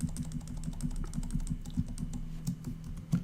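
Rapid computer keyboard keystrokes clatter close to the microphone, an uneven run of crisp clicks with a few heavier taps, with a faint hum underneath and no voices.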